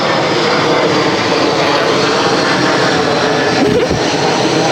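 Around 7 a.m. outdoors, an airplane drones overhead in a loud, steady engine roar that fills the whole stretch with no talking.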